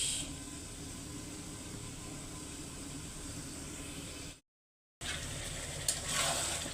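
Bottle gourd and potatoes frying in a pan at night give a steady soft sizzle and hiss, close by. A short silent gap breaks the sound, and the sizzling then resumes with a brief clink of stirring.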